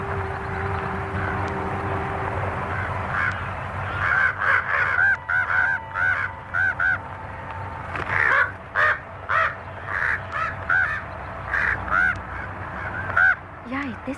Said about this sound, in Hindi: यहाँ इतने सारे कौवे क्यों हैं?